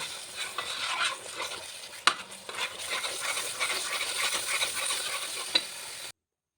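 A thick coconut flower mixture is stirred and scraped in an aluminium pan, with a continuous low sizzle and repeated metallic scrapes and taps, including one sharp clink, before the sound cuts off.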